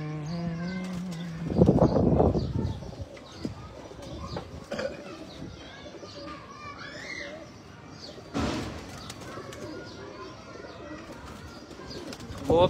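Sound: pigeons cooing

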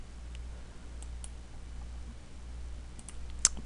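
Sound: computer mouse right click

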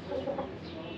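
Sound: Aseel chickens clucking at a farm in Pakistan

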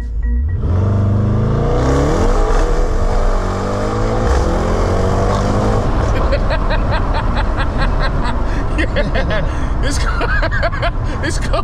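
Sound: 800bhp Mercedes GT63S accelerating hard on wet road

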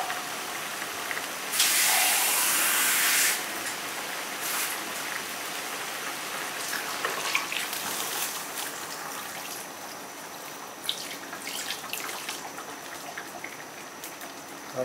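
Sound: water added to a hot pot of fish curry

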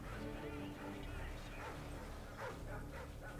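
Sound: dogs barking in the video game Modern Warfare 2

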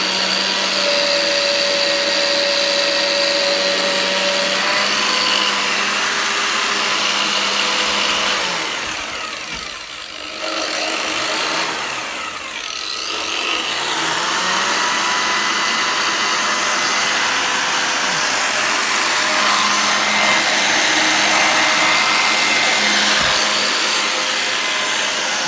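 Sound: vacuum cleaner running, suction at maximum power

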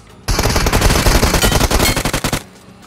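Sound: gunfire in the video game PUBG Mobile

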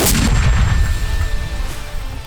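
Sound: mortar shot firing

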